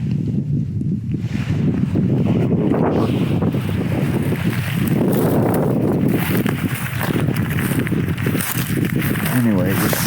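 Strong wind buffeting a microphone outdoors during a rifle deer hunt, a continuous loud low rumble with gusty swells lasting throughout, with someone talking over it.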